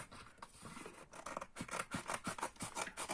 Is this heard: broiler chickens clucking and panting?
no